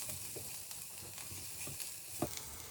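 Crushed peppercorns stirred and cooked in a pan for a steak peppercorn sauce, a soft steady sizzle with faint scraping stirs and light pattering, fairly quiet and close.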